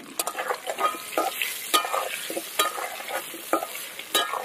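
Potatoes fry in mustard oil with salt and turmeric in a pan, stirred with repeated scraping strokes over a steady close sizzle; no one speaks.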